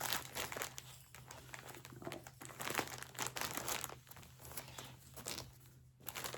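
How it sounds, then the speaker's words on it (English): Packaging crinkles and rustles softly nearby in irregular bursts of crackling plastic, quiet and continuous, with no voices. "sorry for the crinkling"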